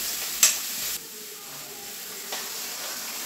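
Spinach dish stirred in a pan, a short loud hiss at first that drops to a soft simmering sizzle with a faint scrape later, no talking.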